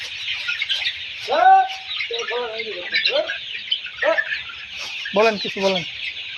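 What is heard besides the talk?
layer hens clucking during fowl pox vaccination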